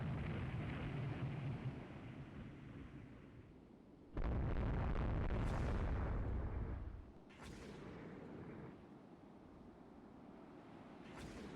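Naval gunfire in the warship strategy game Rule the Waves 2 sounds as three loud, heavy booms a few seconds apart, the first rolling on longest, over a low rumbling background.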